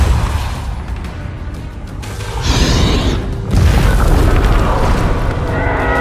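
Confringo and Bombarda spell explosions from Hogwarts Legacy boom loudly and continuously, heavy low rumbling blasts overlapping with a bright whooshing flare partway through, no pauses between them.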